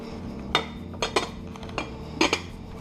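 A lid goes onto a dish of pheasant with morel sauce, making a few sharp metallic and glassy clinks and clatters spread over a couple of seconds, close by with a quiet background.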